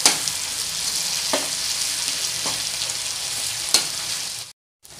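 Onions sizzle and fry steadily in a hot pan after sugar is added, with a few sharp stirring scrapes over the constant frying hiss, ending in a brief silence.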